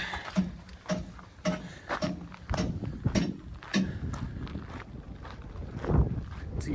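Gusty wind buffets the microphone at an outdoor junkyard, rising and falling in loud rough bursts with scattered thumps, with no speech over it.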